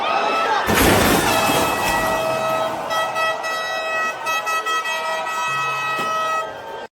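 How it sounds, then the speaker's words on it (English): A loud, sustained air horn blares with a brassy, chord-like tone, holding steady for several seconds before cutting off. "Look how loud this air horn is at the end."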